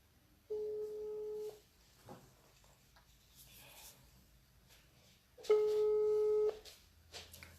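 An outgoing WhatsApp call rings twice, each one a steady electronic ringback tone lasting about a second, with a long gap between them. The tones are clear and moderately loud, with faint background noise in between.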